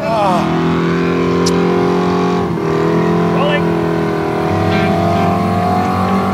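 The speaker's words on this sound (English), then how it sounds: "so we've just seen the burnout qualifying" Cars doing burnouts during burnout qualifying at Summernats, a loud continuous engine drone with sustained revving tones holding steady for several seconds, close and overpowering, with faint voices underneath.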